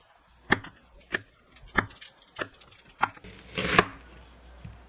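Knife chopping two eggplants, stems removed, into coarse diagonal chunks on a board: six or seven sharp, evenly spaced chops, close and crisp, with a slightly denser cut near the end and no talking.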